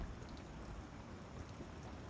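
Steady, faint rain from the remnants of Hurricane Helene falls over Southern Illinois, a soft continuous hiss of drops with no voices.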